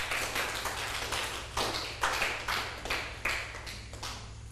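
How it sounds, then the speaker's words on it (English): An audience claps for a contestant on a reality TV reading show, a steady round of fairly close hand claps with a few sharper accents, no voices over it. "Round of applause for Seyi."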